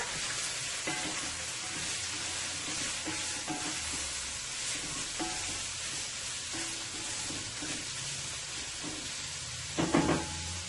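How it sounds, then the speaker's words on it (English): Carrots are tossed in a stir-fry pan with onions and garlic, giving a steady loud sizzle and hiss, with soft scraping and a brief clatter of a utensil near the end. "And to our onions and garlic here, let's add our carrots. Give this a nice toss here."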